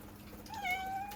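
A cat meows once, clearly and fairly close, with a drawn-out rising-then-falling cry over faint background rain.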